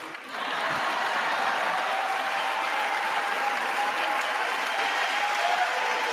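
Applause fills the chamber at a State of the Union address, a sustained, even roar of clapping from a large crowd that rises quickly and holds steady without a break.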